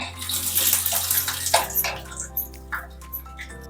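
Peanuts frying in hot oil in a pan, a loud, watery crackling sizzle that is steady at first, then eases into scattered pops and spatters after a sharp burst partway through.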